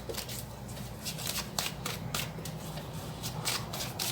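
Tarot cards are shuffled by hand during an air-sign love reading, giving a steady close riffling and slapping texture with repeated brisk bursts and no talk.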